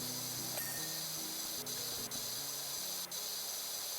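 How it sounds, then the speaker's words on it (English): A pressure washer in PowerWash Simulator sprays water in a faint, steady hiss, with a few short ticks and a low changing tone beneath it. "I'm glad you can just right click and have the water just spray forever."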